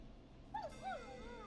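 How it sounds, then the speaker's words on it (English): A neighbor's dog in the video game Killer Frequency gives two short, fairly faint yelping barks, heard in a quiet nighttime scene. "Is that a neighbor's dog?"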